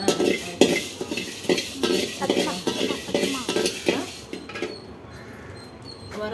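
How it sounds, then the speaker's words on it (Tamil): Coriander seeds dry-roasted in a pan, a spoon scraping and rattling against the metal in quick repeated strokes with a light sizzle, then fading to quieter scattered clinks. "வரமல்லி கொஞ்சம் போட்டு அதையும் வறுத்து எடுத்துக்கலாம்."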